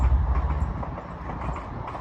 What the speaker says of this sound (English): Why them trains going slow?